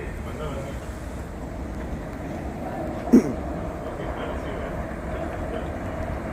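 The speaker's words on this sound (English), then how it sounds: "It's actually just the PATH train going up the bridge." A PATH train climbs the bridge at Harrison, producing a steady, distant low rumble throughout with one brief sharp click partway through.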